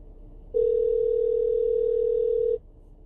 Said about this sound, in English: So you can hear it making a phone call.